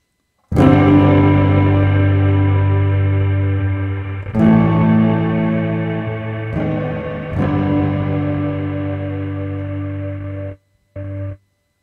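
Sustained electric guitar chords through an Eventide Space reverb pedal on the Corridors preset ring out with lush, spacious reverb tails, struck a few times and left to decay, then a short final chord.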